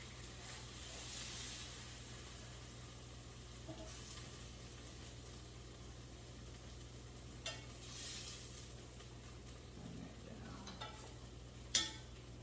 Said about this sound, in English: we're just gonna stir the butter around in the pan to get the flavor off